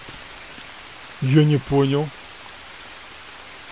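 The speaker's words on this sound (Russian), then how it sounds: "Хотя бы, знаешь, звук дождя я услышу." Steady rain hisses throughout in the Green Hell survival game, a soft even wash of noise that carries on alone and under a brief spoken phrase.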